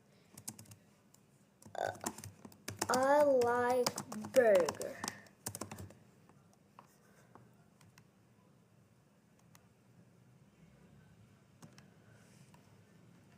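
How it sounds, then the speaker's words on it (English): Rapid clicking of a computer keyboard as someone types code in a Python lesson, a short burst of keystrokes heard while a voice speaks, then fading to quiet. "like I am typing"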